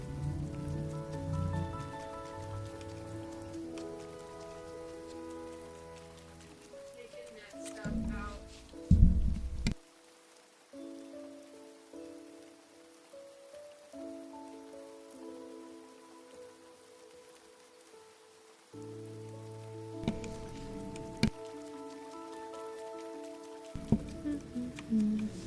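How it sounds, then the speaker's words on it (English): Steady rain patters on surfaces in the farming game Grimshire, continuous and fairly soft beneath tonal game music that drops out briefly, with no talking. "I like the thunder and the rain sounds."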